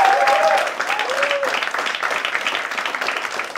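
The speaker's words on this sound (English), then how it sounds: "Can you have a big cheer for that?" A stand-up comedy crowd breaks into loud applause and cheering, with a few whoops at the start, then settles into sustained clapping from many people close by.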